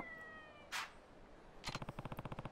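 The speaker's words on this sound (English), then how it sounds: "That's not a happy cat." A distressed cat in Yakuza 3 gives a sharp, strained meow, then a rapid pulsing run of about a dozen harsh yowls, close but quiet, with a brief burst of noise between them.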